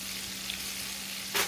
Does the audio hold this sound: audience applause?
no